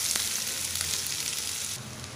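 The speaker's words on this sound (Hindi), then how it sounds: "दो मिनट तक इसे बस इसी तरह फ्राई करना है जब तक अनियन ट्रांसपेरेंट ना हो जाए" Sliced onions fry in a pan for a dry potato sabji, making a continuous close, even sizzle with a few faint stirring touches and no talking.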